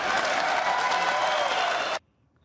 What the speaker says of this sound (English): That applause went on for quite a while.